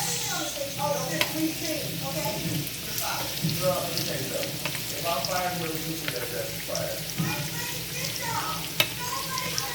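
Shrimp sizzle steadily in a frying pan for ramen noodles with broccoli, a dense close crackle with small pops and light clinks of a utensil, going on without a pause.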